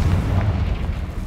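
A Confringo blasting spell detonates in Hogwarts Legacy, a loud, dense boom with a rumbling low-end roar that holds for over a second without fading.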